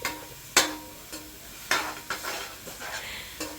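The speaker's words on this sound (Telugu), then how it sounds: "అప్పటిదాకా దాన్ని ఫ్రై చేస్తూనే ఉండాలి" Masala spices frying in oil in a pot, stirred at intervals: a low background sizzle is punctuated by several sharp scrapes and clinks of a spoon against the metal, close by, with no speech.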